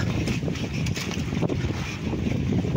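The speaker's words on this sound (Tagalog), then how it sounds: "medyo malakas yung hangin ngayon" Strong wind buffets and roars against the microphone in uneven gusts, with a low rumbling undertone throughout.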